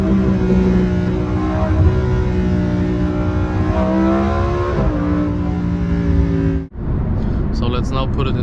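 Lamborghini Huracan Performante driving, its engine droning steadily with a low rising tone and a gear change midway, loud and close from inside the cabin, cutting off sharply near the end before a brief quieter tail.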